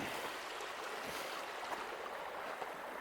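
A river flows in a steady, close rush of water along a Wisconsin hiking trail, with a constant hiss that never pauses and no voices.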